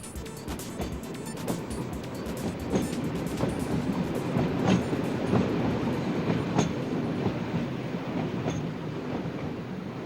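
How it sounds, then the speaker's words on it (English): Old local train creaking and grinding slowly across a 2.5-kilometre rail causeway from land out over the sea, with steady clattering wheel noise and repeated sharp metallic clicks and squeals, continuous and fairly close. "With a slow grinding motion, the train lurched from land to sea."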